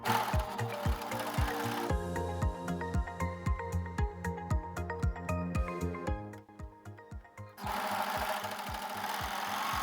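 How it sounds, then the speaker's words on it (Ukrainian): An overlock sewing machine joins the side seams of a pair of briefs in fast, evenly spaced mechanical bursts. The motor runs steadily at first, then changes to rapid repeated stitching and ends in a continuous whir, close and loud, with no talking. "складаємо і також з'єднуємо на оверлоці"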